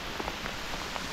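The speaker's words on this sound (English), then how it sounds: "a bit of rain ain't gonna stop us" Light rain patters in a forest during a summer mushroom foray, soft scattered drops tapping on leaves close by, faint and steady.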